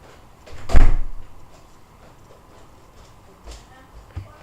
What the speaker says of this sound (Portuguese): Isso foi a porta fechando.